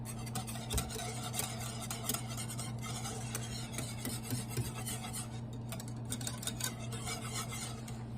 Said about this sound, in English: I'm going to go ahead and whisk that up.